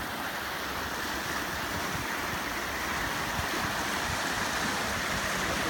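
A small mountain river in Honduras, running muddy after heavy rain, rushes steadily and continuously at close range, with broadband water noise filling the whole stretch and no talking.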